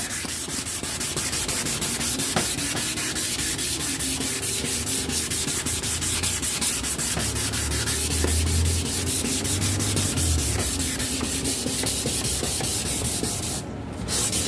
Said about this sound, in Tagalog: Liliha lang natin siya.